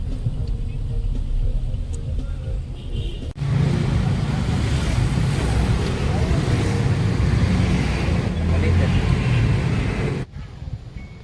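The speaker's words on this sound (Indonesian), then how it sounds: "Kelihatan angin juga ada kencang karena di pantai" Strong wind blows on a beach, a loud, dense rush that starts abruptly after a quieter opening, holds steady for several seconds, then cuts back down near the end.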